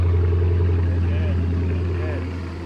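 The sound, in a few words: Chrysler 300 SRT8 Hemi engine idling after starting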